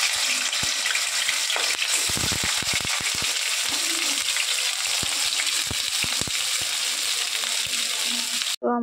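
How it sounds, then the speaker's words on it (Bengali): Cauliflower pieces frying in hot oil in a wok (kadai), a loud continuous sizzle with crackling pops and a few stirring clanks, close up and steady throughout. "দেখো ফুলকপিটা আমি ভেজে নেব। তেল দেখো কড়াইতে দিয়ে দিয়েছি।"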